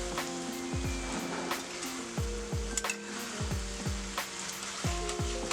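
Stuffed pointed gourd sizzles steadily in a frying pan for a Bengali-style potol dolma, with a continuous close crackle and a low hum underneath, broken by a few soft clunks as the pieces are turned.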